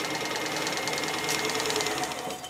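A variable-speed metal lathe runs steadily at a set RPM. It makes a continuous mechanical whir with a rapid fine rattle, fairly loud and close, with no voices.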